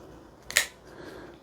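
Folding knife with a liner lock and wood-grain handle being opened, a single sharp click or snap, brief and close against a quiet room.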